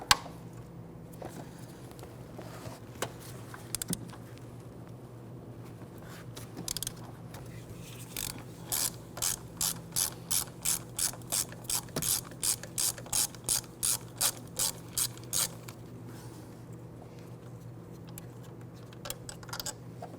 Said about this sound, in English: On the back passenger side of the AC compressor, you're going to find a 13mm bolt here. Loosen and remove that.